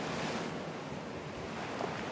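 Waves washing onto a rocky seashore in a steady, moderately loud rolling surf with some wind rumble, no voices present.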